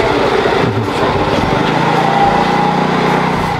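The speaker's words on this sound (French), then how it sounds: "il y a un scooter qui passe" A scooter passes along a canal in Bangkok, its light, buzzing engine droning steadily and fairly loud throughout, rising slightly in pitch midway as it goes by.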